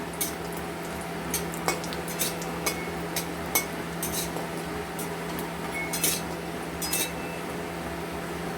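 Metal utensils clink and scrape against a kadai as fried bori (lentil dumplings) are lifted out, a steady run of light, close taps over a low hum and faint sizzle.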